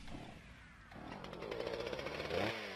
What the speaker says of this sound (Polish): Wow, piła!